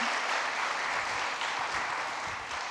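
An audience applauds after a round of applause is called for, a steady wash of clapping heard somewhat distant and even throughout.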